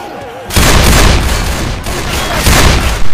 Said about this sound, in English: I only shoot you to motivate you.